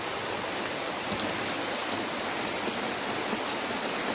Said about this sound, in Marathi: ताडपत्री फाडून एवढा भयंकर पाऊस चालू आहे